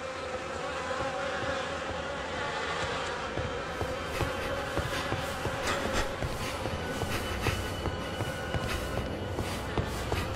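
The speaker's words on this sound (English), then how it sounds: "The air is heavy with the stink of rot and the buzzing of those damned insects" Insects buzz steadily in a rotting mountain setting within the video game The Fidelio Incident, a dense, continuous drone filling the scene with faint intermittent footsteps or clicks throughout.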